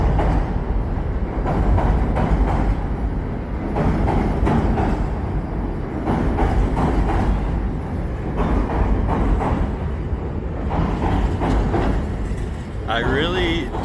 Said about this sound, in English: I really do love the L as a iconic landmark within Chicago.